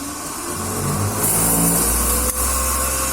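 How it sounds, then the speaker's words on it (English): A DC shunt motor powered from a DC supply spins up during an electrical machines lab test, its steady hum and whine rising in pitch and loudness over a few seconds, with a faint high whine above, no voices. "So DC shunt motor is started."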